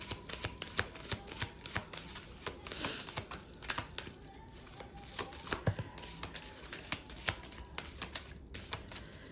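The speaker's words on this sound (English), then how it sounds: "Last shuffle." Deck of tarot cards being shuffled by hand, a steady run of quick papery riffles and snaps, close and fairly soft, with no talking over it.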